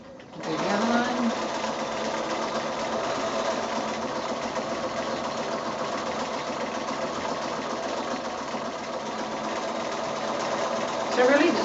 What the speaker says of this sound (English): one of the tricks with free motion stitching is to keep stitching, not stopping and starting all the time